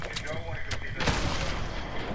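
Gunfire in the video game Fortnite, a dense crackling barrage of shots that swells after a quieter opening and holds steady, with a person talking over it.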